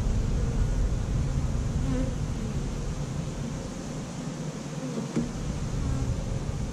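Honeybees buzzing steadily during a check of an urban beehive, a dense continuous drone close by with a few louder individual bees passing near.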